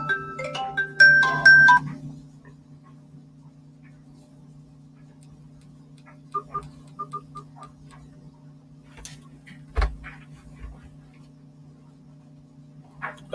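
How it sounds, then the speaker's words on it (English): A phone rings with short patterned tones in the first two seconds, then faint scattered beeps and clicks follow over a steady low electrical hum. "That's my phone ringing."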